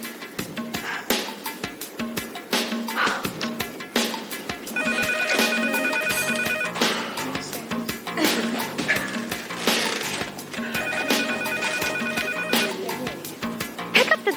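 Telephone bell rings in two long bursts under a tense domestic argument, its bright repeating trill standing out over clatter and other sounds.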